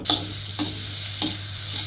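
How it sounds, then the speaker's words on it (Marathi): Dried grated coconut and onion roast in a little oil in a kadhai for mutton masala, making a continuous close sizzle broken by three brief stirring scrapes, with no talk. "त्यात थोडे तेल टाकावे, भाजून घ्यावे."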